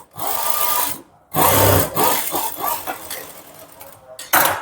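A sewing machine runs a double stitch on a blouse in short, close bursts of rapid whirring, broken by brief gaps. No one speaks.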